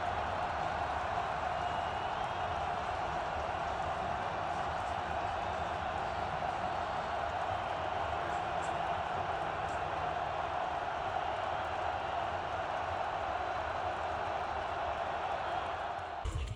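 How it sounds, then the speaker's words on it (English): A big football crowd at Husky Stadium roars as Ohio State lines up for its first play against Washington. The noise is a dense, steady, loud wall that holds for the whole stretch, with no single voice standing out. "listen in to this Husky Stadium crowd get going as Ohio State lined up for its first play of the game"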